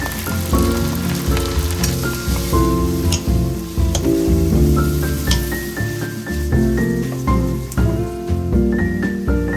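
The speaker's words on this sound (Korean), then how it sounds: "들기름에 마늘 볶다가 고사리 넣어주세요" Garlic and then bracken sautéing in perilla oil for a Korean holiday side dish, a loud close sizzle running throughout under background music.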